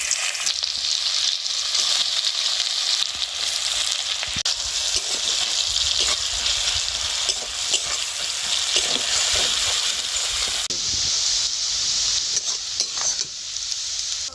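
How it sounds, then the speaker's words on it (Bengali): Chopped onions, two medium ones, fry in a little oil in a wok for an orange chicken dish, giving a steady, close, continuous sizzle with stirring scrapes throughout and no voices. "এইবারে দিয়ে দেবো কড়াইতে মাংস ভাজার তেলের মধ্যে পেঁয়াজ"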